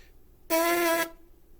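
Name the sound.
lip buzzing for brass embouchure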